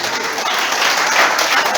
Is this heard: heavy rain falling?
no